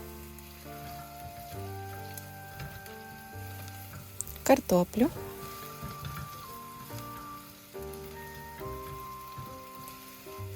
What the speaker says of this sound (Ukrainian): У каструлі розігріваю 2 столові ложки олії або масла. Обсмажую цибулю до м'якості.